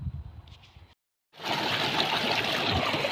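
Irrigation water pouring into a wheat field from a solar-powered pump, a steady close rushing and gurgling flow that starts after a brief silence and continues evenly, following a faint low voice at the start.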